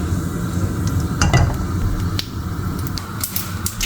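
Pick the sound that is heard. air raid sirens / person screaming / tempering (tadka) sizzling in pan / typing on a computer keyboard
tempering (tadka) sizzling in pan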